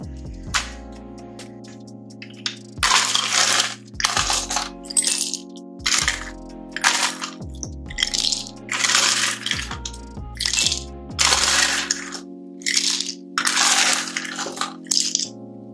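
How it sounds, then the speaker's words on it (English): Ice cubes drop into a bowl in a series of sharp clinking bursts, some single and some in quick clusters, each with a short ringing tail, loud and close with no talk. "Ice cubes."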